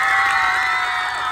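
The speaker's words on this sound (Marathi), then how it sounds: "माझ्यासाठी हात वरती करून टाळ्या" A studio audience claps and cheers loudly and continuously after a dance performance on the Marathi game show Home Minister, Khel Paithanicha, a dense, steady wall of crowd noise.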